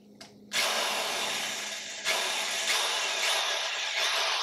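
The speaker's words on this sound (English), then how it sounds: "I'm going to drill a pilot hole" A power drill whirs loudly after a short pause, running steadily with a couple of brief surges as it bores a pilot hole into a fridge to install a beer tap.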